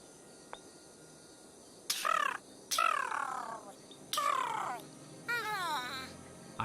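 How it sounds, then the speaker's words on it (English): Several harsh bird calls ring out in an audio drama, coming in four loud bursts with short gaps between them over a quiet background. "I hear a bird, Holmes."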